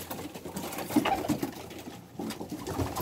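Pigeons in a coop in Samsun, soft low cooing and gentle rustling close by, steady and fairly quiet, with no talk.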